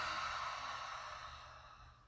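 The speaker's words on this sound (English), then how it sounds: "Open the mouth for an audible exhale." A single audible exhale through an open mouth during a gentle yoga flow, one soft breathy sigh that starts fairly strong and fades out over about two seconds.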